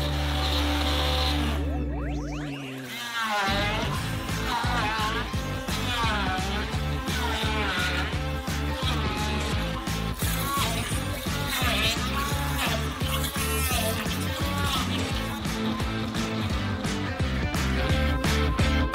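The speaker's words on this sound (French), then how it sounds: "À l'aide d'un mixeur, hachez le tout pour obtenir un smoothie." A blender whirs loudly and continuously after a brief pause, its motor churning steadily with pulsing variation as it blends fruit into a smoothie.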